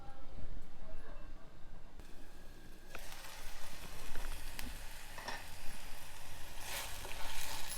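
Beans and green peas sizzle in a hot pan for mint pulao, a steady close frying crackle with occasional stirring scrapes, brighter and denser after the first few seconds.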